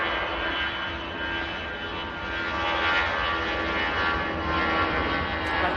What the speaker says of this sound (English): Just let this Easyjet take off.